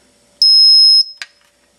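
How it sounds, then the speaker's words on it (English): A dog training collar transmitter gives a single steady electronic beep lasting about half a second, followed by a brief click, alone in a quiet room. "A beep and a flash indicates that they're matched"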